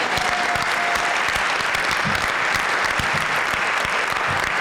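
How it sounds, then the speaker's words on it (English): An audience at a school tenure event breaks into sustained applause, a dense, even roar of many hands clapping at once that carries on throughout with no voices on top. "Can we get a round of applause for that?"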